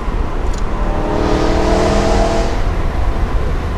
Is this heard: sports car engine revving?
yes